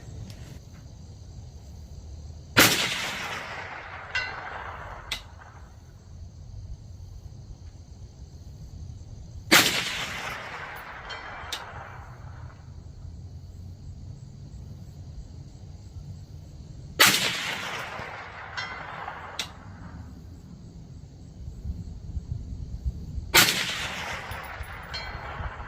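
A Bear Creek Arsenal 20-inch stainless .22 WMR rifle upper fires outdoors, four sharp cracks spaced several seconds apart, each leaving a brief decaying tail over steady background hiss and insect buzz.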